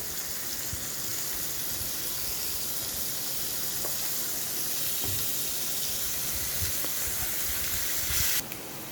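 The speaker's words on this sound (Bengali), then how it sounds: "রসুনটা আমার একটু ভাজা হয়ে এসছে এর মধ্যে আমি দেবো পেঁয়াজ বাটা" Onion paste frying with garlic in hot oil hisses in a steady, even sizzle that stays constant with occasional faint ticks, ending in a brief louder burst.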